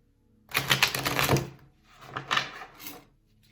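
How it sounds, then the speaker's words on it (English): Tarot cards being shuffled make two close bursts of riffling and flapping, a longer one followed by a shorter one, with no voice in between. "I'm gonna shuffle it again."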